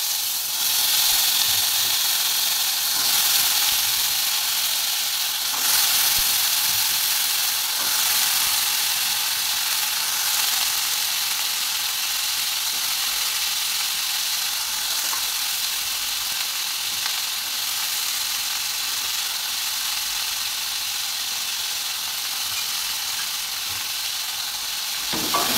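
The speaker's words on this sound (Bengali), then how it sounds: "এবারে কিন্তু আমি সবজিগুলো দিয়ে দেবো" Vegetables fry with panch phoron spices and green chilli in a wok, giving a loud, steady, close sizzling hiss that runs unbroken throughout, with occasional faint stirring scrapes and no talking.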